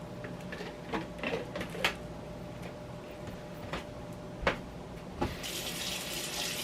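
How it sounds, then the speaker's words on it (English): Tap water running into a ceramic crockpot insert, a faint continuous splashing stream with a few small knocks and clatters, quiet and close. "first I'm going to put some water in the bottom of here"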